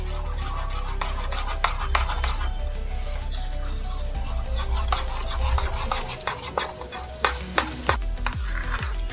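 Mango fritter batter with chopped coconut being stirred and mixed by hand in a bowl, with continuous wet squelching and scraping plus sharper knocks of the spoon against the bowl, close and fairly loud.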